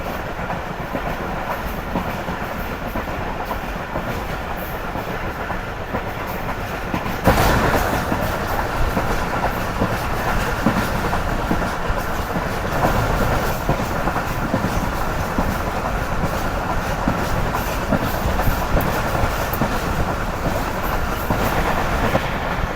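Karakoram Express passenger train picking up speed, a steady broadband rumble of wheels and carriages with rhythmic clickety-clack that grows noticeably louder and denser a few seconds in, with no voices.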